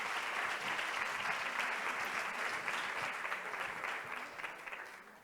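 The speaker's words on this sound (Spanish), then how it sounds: "Un fuerte aplauso" Steady, dense applause from an audience at a conference session, sustained evenly throughout before easing slightly at the end, with no voices over it.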